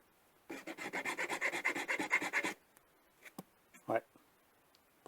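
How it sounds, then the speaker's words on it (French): A nylon part being hand-filed, close up: a run of about fifteen fast, even rasping strokes for two seconds, then silence broken by a few scattered taps and handling knocks. "le nylon, pour le limer, on a du mal à enlever"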